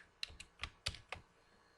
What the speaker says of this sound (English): You can observe that I'm typing the string in upper and lower cases